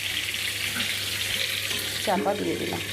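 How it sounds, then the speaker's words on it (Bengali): Potatoes frying in a little oil in a pan, a steady hiss of sizzling throughout, with a brief spoken remark near the end. "আলুটাকে আমি ভাজতে দিয়ে দিলাম, লাল লাল করে ভাজতে হবে"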